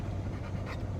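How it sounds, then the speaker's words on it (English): Dogs pant in a steady, close, rapid rhythm inside an air-conditioned car on the way to a wooded property, over a low constant hum. "The dogs are panting."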